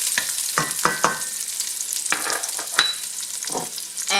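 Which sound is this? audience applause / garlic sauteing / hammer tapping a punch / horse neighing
garlic sauteing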